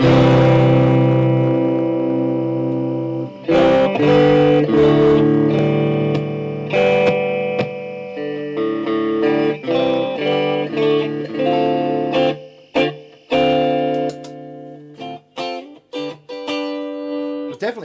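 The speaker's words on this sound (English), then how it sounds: "I do have reverb on there." Distorted, fuzzy electric guitar chords through an Orange Fur Coat octave fuzz pedal with reverb ring out with lingering reverb tails, several sustained notes then choppier strums near the end.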